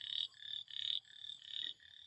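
Frogs croak on a farm just after rain, several quiet, high, buzzing calls repeating in a steady rhythm with short pauses, alone and close by.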